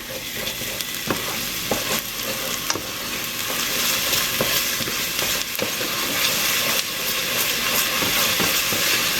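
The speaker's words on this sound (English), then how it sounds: "And we're going to give it a stir." Beef stroganoff is stirred in a hot pot, a steady loud sizzle with repeated scraping and clinking of the spoon against the pot, continuous and close with no talking.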